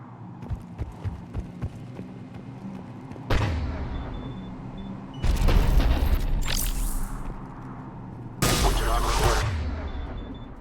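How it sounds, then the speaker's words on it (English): Cannon fire booms in the Mass Effect 3 video game, with three heavy, loud blasts spaced a few seconds apart over a background of rumbling combat noise and scattered smaller shots. "Looks like Cerberus got that cannon operational"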